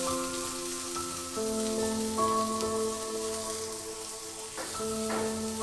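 Onions frying in a pan for a tilapia fish curry hiss and sizzle steadily as a little water goes in, a close, continuous crackle with bursts of spitting and faint stirring and no voices.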